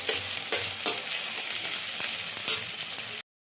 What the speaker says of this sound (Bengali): রসুনটাকে একটু লাল লাল করে ভেজে নেব,